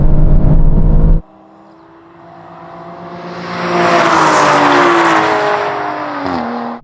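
An Aston Martin V12 car in a drag race. A loud roar cuts off abruptly, then the engine revs rise into a sustained high wail and fade at the end.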